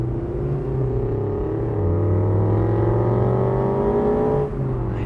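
Subaru BRZ engine droning steadily from inside the moving car, its tone climbing slowly as it pulls, then dipping briefly near the end, loud and continuous with no voices.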